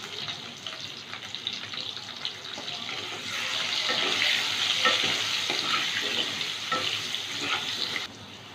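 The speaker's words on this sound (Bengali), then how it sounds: "আলুটা ভেজে নেব।" Potatoes frying in mustard oil in a pan, a soft continuous sizzle that swells in the middle with faint stirring, heard close up with no talking.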